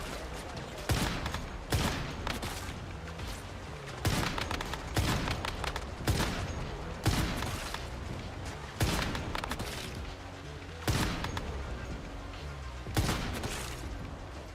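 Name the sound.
sniper gunfire in the video game Once Human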